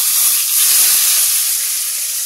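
Large eggplant chunks frying in hot oil in a pan, a loud, continuous bright sizzle and hiss close up with no pauses and no voices.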